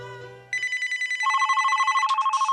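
A telephone rings loud and close, first as a low tone and then as a fast trilling electronic warble with a steady pulsing beat, shifting pitch partway through.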